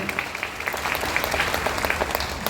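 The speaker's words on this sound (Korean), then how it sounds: "박수 부탁드립니다" Steady applause from wedding guests, many hands clapping continuously and evenly for a couple of seconds, fairly close and loud.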